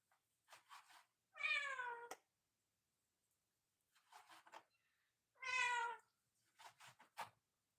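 Several cats in a cage meow repeatedly, with two loud, drawn-out meows standing out among shorter, softer mews in quiet surroundings.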